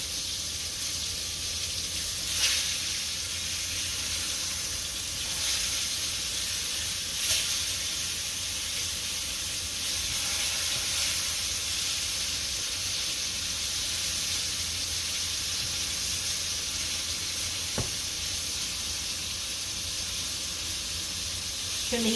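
Pork chops sizzle in a hot frying pan while being flipped, a steady bright hiss throughout with occasional louder bursts and a faint clink near the end.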